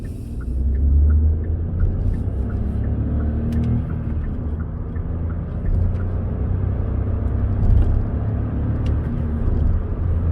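Hyundai Bayon engine accelerating through the gears in sport mode, a steady low cabin rumble and whir with slight surges at each shift, continuous throughout with no talk.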